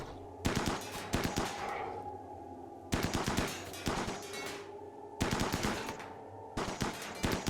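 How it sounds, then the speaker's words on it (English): Video game gunfire in Rimworld as colonists shoot a crashed ship, repeated bursts of rapid automatic shots separated by short pauses, loud and close with no talking. "Okay, what we're going to do is shoot this crash ship. Shoot it to death."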